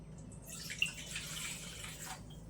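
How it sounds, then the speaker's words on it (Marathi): Water poured from a bowl into a kitchen mixing vessel while preparing chapati dough: a soft, brief splashing trickle lasting under two seconds, close and quiet, with no voice. "आता हे पाणी घेतलं 1 बाउल"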